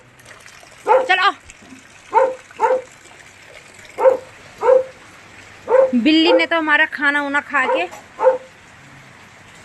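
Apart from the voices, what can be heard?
dog barking in heavy rain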